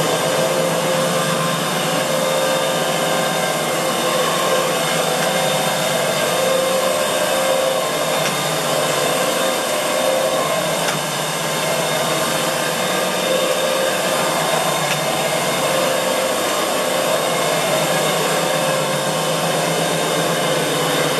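A carpet cleaning machine fitted with renovator covers works cleaning compound into and back out of carpet, giving a steady, loud, unbroken motor whir that runs alone throughout.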